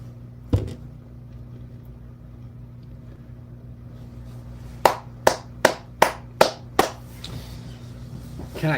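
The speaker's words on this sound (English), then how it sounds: "Can I get a round of applause?" Sharp hand claps ring out indoors: a single early smack, then a slow, evenly spaced run of about six claps, as if from one person. A steady low hum sits underneath.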